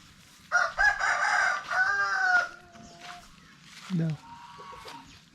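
A nesting hen sitting on her eggs gives loud, drawn-out clucks and squawks close by, several calls with short pauses between, against a quiet farmyard background.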